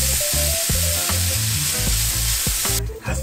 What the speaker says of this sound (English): We now have to cook the tofu.